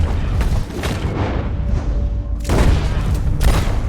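Gunfire in Red Dead Redemption 2 booms as a few heavy shots with rumbling echoes against ongoing background noise, loud and close.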